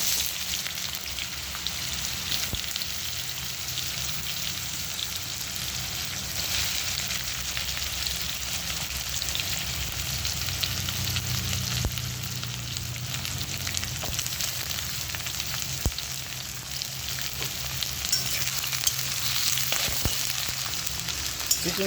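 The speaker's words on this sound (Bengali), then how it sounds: "চিচিঙ্গাটা ভাজা ভাজা হচ্ছে" Ridge gourd pieces frying in hot oil with spices, a dense continuous sizzle and crackle that stays loud and close for the whole stretch, with no voices over it.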